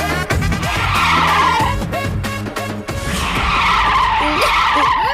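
A car skids to a sudden stop with loud, sustained tire squeals and screeching over engine noise, two long bursts of skidding close by.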